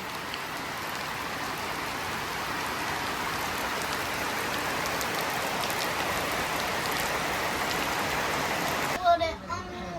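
Heavy rain pours down steadily in a village setting, a dense, even wash of drops on surfaces that lasts throughout, with a brief voice near the end.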